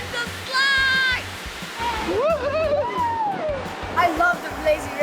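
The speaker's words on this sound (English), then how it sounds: "Kalahari is one of the largest indoor water parks in the country" Steady rushing water fills Kalahari, a huge indoor water park with slides, while excited children's voices shriek and call out over the constant splashing wash.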